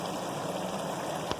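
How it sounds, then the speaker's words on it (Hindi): A glass of water poured into a pot of Sindhi biryani with chicken and potatoes, a steady trickling splash that holds evenly before a brief knock at the end. "इसमें हम 1 गिलास पानी ऐड कर रहे"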